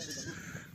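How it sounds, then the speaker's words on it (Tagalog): A sheep bleats in a brief, faint, wavering cry with a goat-like quaver, heard up close over outdoor background noise. "Nakakita na tayo ng tupa sa totoong buhay."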